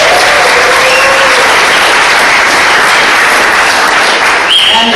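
An audience at a summer film festival screening applauds loudly and continuously, a dense wash of clapping close by that holds steady and fades slightly at the end.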